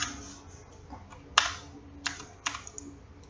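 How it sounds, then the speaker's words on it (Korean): Keys click on a computer keyboard, including the Tab key pressed to switch into Blender's edit mode. A few sharp, close taps sound over faint background noise. "탭 키를 눌러서 에디트 모드로 가겠습니다"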